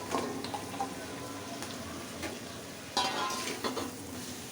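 Mustard stalks dropped into hot spiced oil sizzle and fry as they are stirred, with scraping and clinking of a utensil against the pan, close and fairly loud, no voices.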